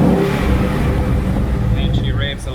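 A 2015-2017 Ford Mustang GT V8 with a Stage 2 Performance Power Pack revs hard and close, intake noise roaring with popping and crackling, and a thin whine rising near the end.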